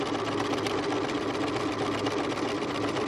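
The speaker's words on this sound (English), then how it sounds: "now I'm going to sew it all the way across the bottom" Domestic sewing machine running steadily for a continuous stitching pass across the bottom of a fabric travel pillow, a fast, even mechanical whir held at constant loudness throughout, with no talking.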